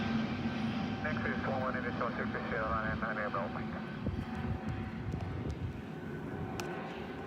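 Airliner engines roar at Manchester Airport, a steady broadband rumble of jet noise with people talking over it nearby throughout.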